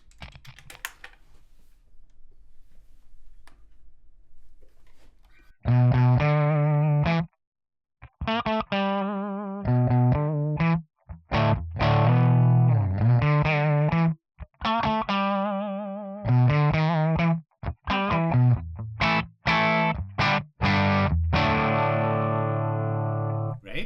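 A Les Paul electric guitar played through a Tonex One amp model, delivering bright, distorted riffs in choppy bursts with short pauses, loud and close with no voices.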